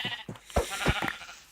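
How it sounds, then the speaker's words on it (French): Video game sheep bleat several times in short separate calls, close and clear over a faint steady background hum. "Génial, un autre mouton, un autre mouton, un autre mouton."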